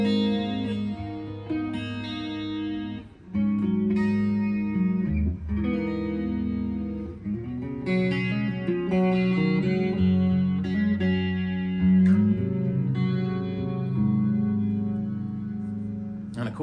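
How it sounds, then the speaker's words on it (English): A guitar runs through a NuX Mini Super Chorus pedal on its pitch modulation setting, with the notes and chords warbling and wavering in pitch as they ring out clearly over several phrases. "and get into the pitch modulation feature."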